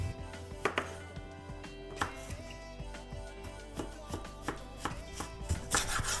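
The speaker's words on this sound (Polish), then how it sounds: "I na tej samej desce jeszcze pokroję sobie cukinię." Knife chopping zucchini on a cutting board, a series of close, uneven taps and thuds with a faint steady hum underneath.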